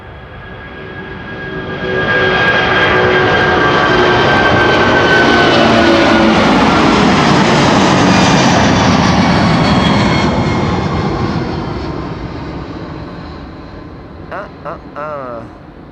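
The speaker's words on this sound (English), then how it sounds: "Here we have the Dows, the A340-600, going to Paramaribo in Suriname." An Airbus A340-600 jet airliner at Amsterdam Schiphol swells in from a distance, roars loudly for several seconds as it passes with a whining engine tone, then fades away, with brief faint knocks at the end.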